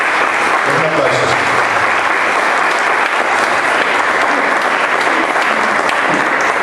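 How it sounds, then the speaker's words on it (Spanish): Church congregation applauding together during a sermon, a dense, steady wash of clapping that fills the room at full volume for several seconds, with voices and cheers mixed into the crowd. "Un aplauso."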